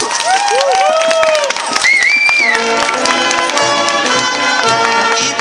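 Crowd at an outdoor plaque unveiling on a city street applauding and cheering, bright whoops and vocal calls over continuous clapping, with people talking throughout.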